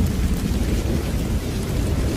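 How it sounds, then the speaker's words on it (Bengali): Heavy rain pours in a night storm scene of a horror cartoon, a loud, dense roar of downpour with deep rumbling thunder underneath, steady and without any voices. "মুষলধারে বৃষ্টি শুরু হলো"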